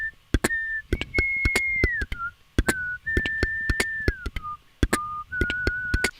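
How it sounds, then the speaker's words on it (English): Someone whistles a short lead melody for an acoustic guitar piece, sustained notes shifting in pitch, interrupted by sharp rhythmic clicks and taps. "I'm like whistling the lead melody, right?"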